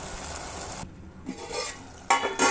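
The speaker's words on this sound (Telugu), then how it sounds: "ఇప్పుడు కొంచెం సాల్ట్, కొంచెం ఒకసారి అన్నీ బాగా మిక్స్ అయ్యేలాగా కలుపుకుందాం." Sambar vegetables with salt and chili powder are stirred in a cooking pot, giving soft wet scraping and sizzling with a brief pause and a couple of louder stirring bursts near the end.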